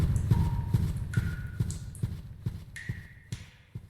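Loud, heavy footsteps in a video game land in a steady, evenly spaced rhythm, each a sharp thud close by, with faint tonal game sounds drifting in the background.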